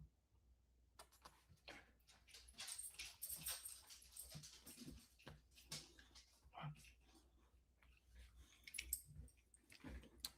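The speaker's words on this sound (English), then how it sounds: "The dog's like kind of like whining." A young puppy whimpers and whines intermittently indoors, high thin cries scattered among background talk and small rustling sounds, moderately close.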